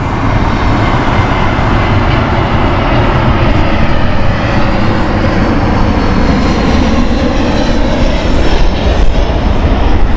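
A jet airliner lands on runway 9 left at Heathrow Airport in foggy weather, a loud continuous engine roar with broadband rumble that holds steady throughout.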